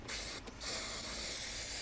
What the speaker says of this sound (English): Now what I'll do is I will spray battery terminal protectant on there.